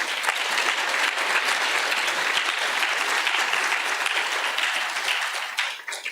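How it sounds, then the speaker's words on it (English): Hall audience at a yoga event breaks into sustained applause, a thick, even wash of clapping from many hands that holds steady and then begins to thin near the end. "A big round of applause for her."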